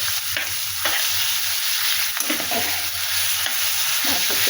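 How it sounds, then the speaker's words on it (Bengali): Mixed vegetables frying in fish oil with turmeric for a Bengali charchari, a steady loud sizzle with scattered spatter pops and occasional spoon scrapes against the pan, no voices. "এটা ভালো করে ভেজে নেব"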